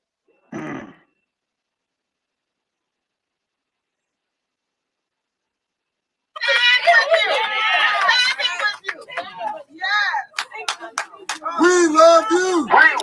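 A crowd gathered at a village meeting in Dolton, with a brief burst of noise, several seconds of silence, then loud overlapping voices, cheers and chatter.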